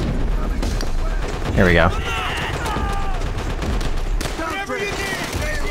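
Sustained machine gun fire rattles loudly through a battlefield scene in the video game World at War, dense and continuous with other game noises, while someone talks over it.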